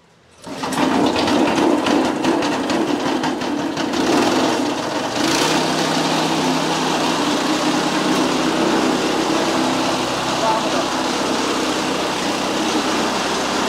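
A small gasoline engine on a tool for cutting coconut fronds starts with a sharp burst and then runs at a steady, loud, buzzing idle close by, with no voices over it.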